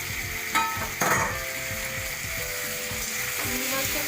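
Shrimp stirred into a hot pan with onion, tomato and green chili, a steady close sizzle broken by a few sharper scraping stirs near the start, no talking.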